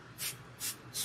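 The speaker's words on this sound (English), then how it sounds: "spray the hair" Apple cider vinegar or kombucha solution is sprayed onto hair from a spray bottle in three short, evenly spaced hissing bursts, close and quiet.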